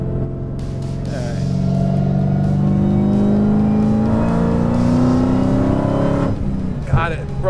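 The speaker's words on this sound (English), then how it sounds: "Broke the tires loose there. On the highway at 55." A 900-horsepower Dodge Hellcat accelerates hard on the highway at about 55 mph, its tires breaking loose; a loud, rising engine roar swells steadily for about six seconds, then cuts off abruptly with a brief clunk.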